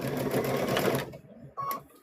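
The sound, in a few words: sewing machine stitching fabric for a stuffed bear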